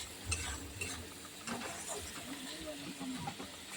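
Spiny gourd (kakrol) goes into hot oil with fried red spice paste in a home kitchen, bringing a soft, steady sizzle with occasional stirring scrapes and a voice talking over it.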